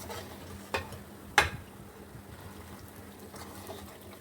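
Namak pare deep-frying in hot oil, a faint, steady sizzle broken by two sharp clinks of a utensil stirring or lifting the crisp pieces from the pan.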